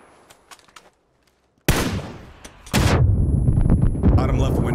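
Gunfire in PUBG while shooting an enemy off a roof: after a quiet stretch, loud close bursts of shots erupt, one heavy blast followed by sustained rapid fire that continues to the end.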